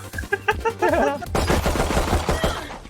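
Rapid automatic gunfire in the video game Valorant, a close, loud burst of sharp repeated shots, first clipped and stuttering, then a dense continuous spray.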